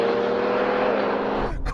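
A Porsche and an Alfa Romeo Stelvio in a drag race roar loudly with steady, sustained engine drone and rising revs, ending in a sudden drop and rumble.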